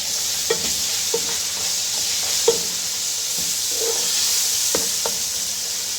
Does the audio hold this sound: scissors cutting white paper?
no